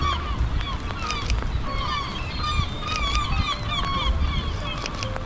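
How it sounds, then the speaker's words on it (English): Many goose-like birds honking overhead on a rainy city street, repeated overlapping calls near and far over steady rain and traffic hiss. "So many birds."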